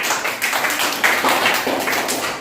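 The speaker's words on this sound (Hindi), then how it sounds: "तालियां बजाइए।" Children in a classroom clap together in a brisk, uneven burst of hand claps, close and fairly loud, lasting a couple of seconds.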